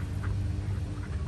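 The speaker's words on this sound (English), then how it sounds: "big swan and ducks." Ducks at a park quack a couple of times, faintly and briefly, over steady low outdoor background noise, with no speech.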